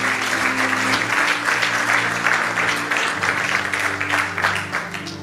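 Audience applause fills a church hall at a faith conference before a teaching begins, a broad, steady wash of clapping that stays loud throughout with a low sustained hum underneath.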